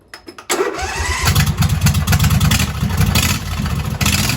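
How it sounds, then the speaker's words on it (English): A mud mower engine cold-starts: a few brief cranking bursts, then the motor catches and settles into a loud, rough, pulsing idle that keeps running close by, with no voices. "Let's do a John Deere cold start sound test right after the Clifford test so we can compare them better."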